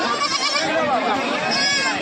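Goats at a crowded livestock market in Kalpi, Uttar Pradesh, bleating loudly and continuously, several overlapping wavering cries close by, with people talking amid the noise.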